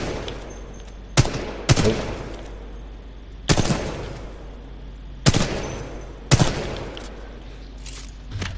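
Machine gun fire in a video game campaign, heard as several short loud bursts spaced a second or two apart, each with a sharp crack and quick echoing decay; a voice briefly exclaims.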